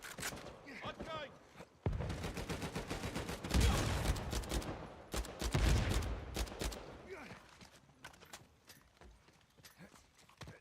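Pistol shots in Uncharted 4 multiplayer, a string of sharp rapid reports in clustered bursts amid game noise, with someone talking over them.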